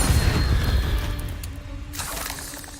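The Incendio fire spell in Hogwarts Legacy, a loud whooshing, booming burst of flame that rumbles and fades, followed by a fainter crackling tail.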